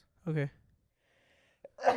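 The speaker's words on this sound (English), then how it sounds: "I gotta sneeze" A single sudden sneeze bursts out after a brief spoken word, close and loud, followed by a short pause and another voice.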